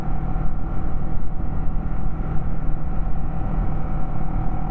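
Heavy, stop-and-go road traffic in Cheras, Taman Santek, makes a continuous low engine rumble and drone that stays loud and steady throughout, with no voices.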